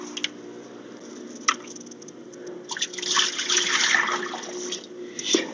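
Water splashes and trickles into a container for chickens, with sloshing that swells in the middle before tapering off, close by and with no talk.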